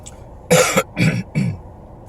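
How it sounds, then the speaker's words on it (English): Three harsh coughs from a man getting over a cold come close together, the first the loudest, each a short raspy burst with quiet pauses between. "hopefully we can get through this without too much coughing"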